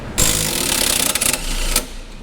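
Bottom shock bolt on a Dodge Challenger or Charger being loosened, likely with a power tool during a suspension spring install: a loud, rapid rattling burst of about one and a half seconds, close by, that then stops.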